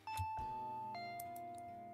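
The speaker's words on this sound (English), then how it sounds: "the doorbell rang" A doorbell rings in Higurashi: When They Cry, a clear two-tone electronic chime where the second note drops lower and lingers, close and alone.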